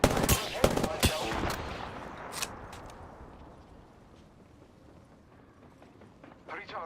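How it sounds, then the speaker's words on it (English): Gunfire rattles out in Apex Legends, with a sharp burst of rapid shots at the start, a few scattered cracks afterward, then quieter game ambience and a brief final flurry. "The enemies are shooting at me."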